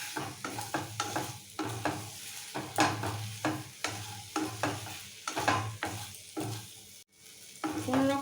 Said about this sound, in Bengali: এটাকে নাড়াচাড়া করে নিতে হবে। চিকেনগুলোকে যতটা সম্ভব একটু ভাজা ভাজা করে নিতে হবে।